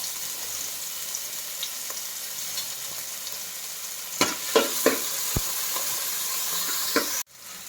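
Crushed ginger paste and green chillies fry in hot coconut oil for a beef curry, giving a steady hiss with several sharp stirring clacks near the end before the sound cuts off.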